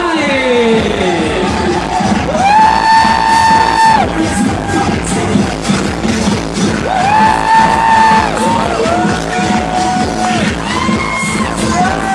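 Loud festival crowd cheering, yelling and whooping for a drag queen at an outdoor LGBT diversity fair in São Paulo's Anhangabaú, mixed with booming music that swells and falls several times over the cheers.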